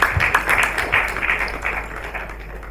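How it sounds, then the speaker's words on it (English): An awards ceremony audience claps in a brief, lively burst of applause, close and moderately loud, with individual claps pulsing through a dense crowd sound. "Another round of applause for him,"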